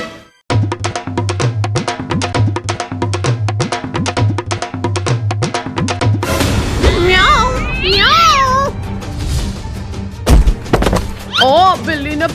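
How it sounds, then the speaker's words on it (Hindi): A cat meows several times in wavering cries after a steady rhythmic thumping, with voices speaking nearby. "यहाँ पर बिल्ली का पूरा परिवार है"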